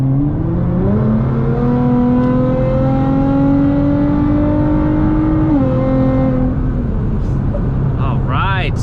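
A Nissan GT-R accelerates hard, its engine note climbing steadily through a long gear before a shift, then revving again; loud and close, heard from inside the car with some talk near the end.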